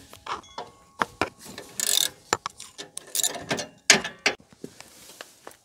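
A hand ratchet loosening nuts on a Kioti CK261 tractor, with bursts of rapid metallic clicking, pauses and clinks of metal parts, close and alone.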